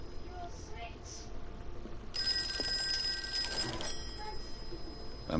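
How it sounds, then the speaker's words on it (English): Telephone ringing in the video game Call of Cthulhu, a bright electronic bell trill that starts after a couple of seconds and continues steadily, with a player talking over it. "Now the phone's ringing."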